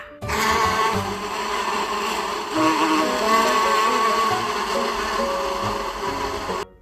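A steady, droning buzz like a bee, continuous and fairly close, holding an even level before cutting off abruptly.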